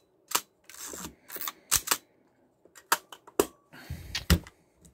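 A Zenit-E film camera's mechanical shutter fires repeatedly during spring adjustment, sharp close clicks and snaps at irregular intervals with short winding rasps between them, in a quiet room.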